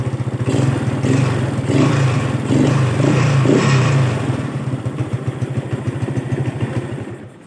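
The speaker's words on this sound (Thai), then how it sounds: "เครื่องเงียบนะครับ" A carbureted 2011 Honda Wave 125 R motorcycle engine idles steadily and fairly quietly nearby, with a regular low putter and a slight clatter that eases a little toward the end.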